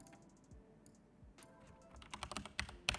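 Computer keyboard typing, a short burst of crisp close clicks that starts sparse and speeds into a quick run of keystrokes, with no talk.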